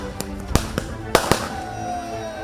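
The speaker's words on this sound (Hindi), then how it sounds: "आतिशबाजी की, पटाखे फोड़े।" Diwali firecrackers and fireworks set off by BSF troops at the Jammu and Kashmir border go off in several sharp, loud cracks and bangs at uneven intervals, followed by a rising whistle.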